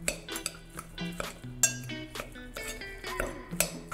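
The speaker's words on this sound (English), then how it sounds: "And we're gonna take a spoon and just mix it all together." A spoon clinks and scrapes against a bowl while meatloaf ingredients and breadcrumbs are mixed, giving quiet, close, irregular taps and rattles with no talk.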